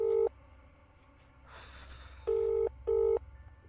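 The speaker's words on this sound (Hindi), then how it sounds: "घंटी जा रही" An outgoing phone call's ringback tone rings twice, near and clear, after a short burst of dialing tones, with quiet room noise between.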